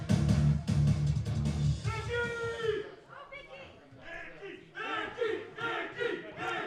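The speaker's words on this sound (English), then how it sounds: "Crowd showing some respect to Vicious Vicky here tonight." A wrestling crowd at a live event cheers and shouts, a loud dense roar of voices that swells and settles, with a commentator's voice over it.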